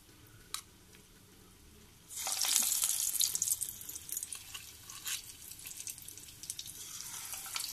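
Moong dal pakoras dropped into hot oil set off a loud, bright sizzle that bursts in after a quiet start and keeps crackling steadily, with no one talking.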